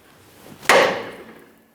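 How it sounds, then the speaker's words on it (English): One sharp hammer strike on a tie rod end of a 2012-2015 Honda Civic steering rack rings out clearly, then fades quickly into quiet. "a couple light taps with a hammer will do"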